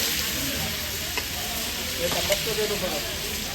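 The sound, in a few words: large batch of beef kala bhuna frying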